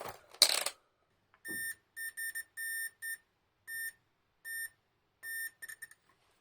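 A multimeter in continuity mode on a repair bench for an Akai AA-R22L receiver gives a series of sharp electronic beeps, short and longer tones in uneven bursts, after a brief rustle at the start, with no talking.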